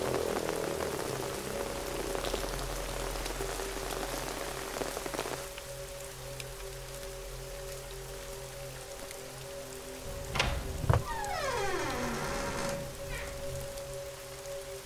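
Steady rain falling on surfaces, a dense patter throughout with a few louder thumps and clatters partway through, moderately loud and without talk.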